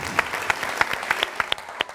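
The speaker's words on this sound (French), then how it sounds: "On va applaudir encore s'il vous plaît pour Emma Lolo qui est avec nous." Close, distinct individual handclaps ring out in a loose rhythm over a softer bed of wider audience applause, about a dozen sharp claps in two seconds.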